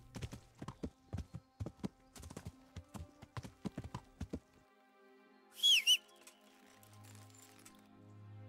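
Horse hooves clip-clop steadily on the ground in Kingdom Come Deliverance, a quick even series of close strikes for about four seconds, then stopping; a brief whinny or whistle follows over a quiet low hum.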